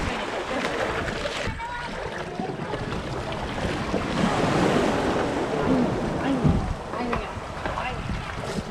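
A boat carries passengers across the sea off Malvan in Sindhudurg, with steady rushing water, wave wash and wind buffeting the microphone throughout, fairly loud and close, while people talk faintly under the noise.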